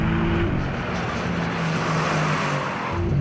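A loud engine of a roughly $200,000 car drones steadily at close range while tires crunch and rumble over loose gravel, a constant gritty noise underneath.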